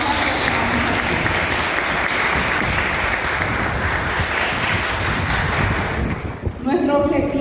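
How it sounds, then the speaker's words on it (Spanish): A crowd claps loudly at a children's and youth literature and arts event, dense sustained clapping that cuts off and thins near the end as a voice comes in. "yo quiero pedir un fuertísimo aplauso para todos"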